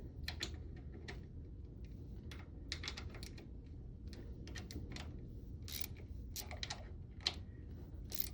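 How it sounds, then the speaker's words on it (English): Small ratchet tightening small bolts on a Scania 6SY engine during a water pump impeller service, giving a run of quick, light clicking ratchet strokes in short bursts, close and fairly quiet over a low background hum. "using a small ratchet instead of a full-size one definitely helps to feel how tight you're"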